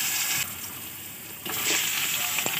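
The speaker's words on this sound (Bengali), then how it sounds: "এগুলো একটু ভেজে নেব।" Potato and eggplant pieces, dropped into hot oil spiced with black cumin seeds and a dried red chilli, fry with a loud, steady, close sizzle that dips briefly and then swells again.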